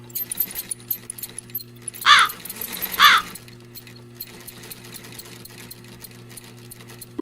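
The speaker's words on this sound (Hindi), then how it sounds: "अपनी माँ की सिलाई मशीन निकाल कर उस पे सिलाई करने लगती" A sewing machine whirs in two short bursts about a second apart, over a steady low electrical hum.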